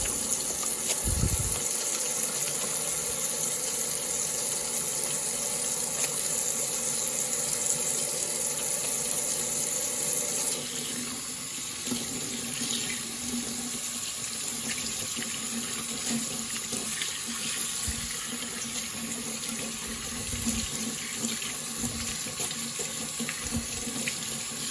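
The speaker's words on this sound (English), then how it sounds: "I need to wash my hands." Water runs steadily from a kitchen tap into a sink during hand washing while cooking, a continuous close gush that shifts in tone midway, with a few soft knocks and splashes.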